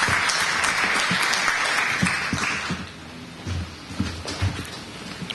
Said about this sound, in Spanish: Lo recibimos también con el aplauso de todos ustedes.